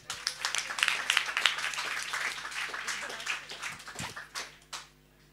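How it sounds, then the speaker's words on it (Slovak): Applause from a small conference audience for two speakers, a dense patter of clapping that rises quickly, holds steady, then thins out and stops. "a potlesk pre Maciho a Peťa"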